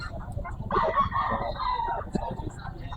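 A banana line rooster with a straight comb at an outdoor grotto poultry market gives a loud, close crow lasting over a second, with people talking nearby.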